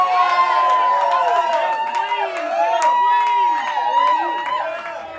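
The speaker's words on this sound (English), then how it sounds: "Please continue your rousing applause for the master prophet, Mr. Nicholas Casarino on guitar" Loud, sustained crowd cheering and whooping from an audience at a live show by The Nth Power at The Mousetrap in Indianapolis, rising and falling in waves with clapping mixed beneath throughout.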